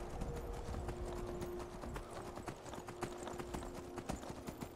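Horse hooves clip-clopping in Skyrim while riding through mountainous terrain, a steady rhythmic trot of hoofbeats, faint and even, with a light game ambience underneath.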